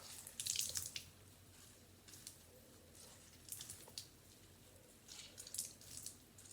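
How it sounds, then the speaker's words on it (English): Water drips and trickles in soft, irregular bursts as a hot, wet washcloth is wrung out by hand, with small wet splashes coming and going against a quiet room. "we're going to hold it and then just squeeze all of that water out of it"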